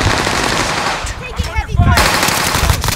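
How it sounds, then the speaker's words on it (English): Gunfire in the Warzone video game, loud rapid automatic bursts that briefly thin out before resuming, with a radio-style voice faintly mixed in. "Under fire."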